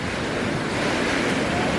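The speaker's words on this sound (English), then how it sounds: "The waves are big today." Big ocean waves break on the shore at Pacifica, California, as a steady, loud broadband roar of surf mixed with wind buffeting the microphone.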